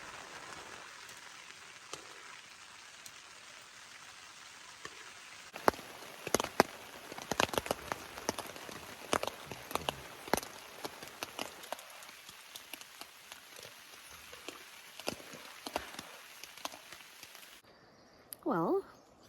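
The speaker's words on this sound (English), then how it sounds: "It's raining a little harder now." Rain falls on a tent pitched on a solo canoe trip at Crotch Lake in Algonquin Park. Sharp, close drops patter on the fabric, sparse at first and then steadier and denser, and a short rustling sound ends it.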